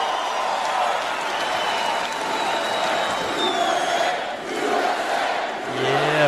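A crowd cheering and whooping in agreement during a talk show segment, a sustained roar of voices with scattered shouts and whistles, steady and fairly loud.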